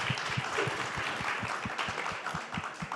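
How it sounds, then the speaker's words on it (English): Audience applauds panelists at the close of a competency-based education panel at the ASU+GSV 2022 conference, steady moderate clapping heard from a little distance with a faint low rhythmic thump running underneath. "round of applause"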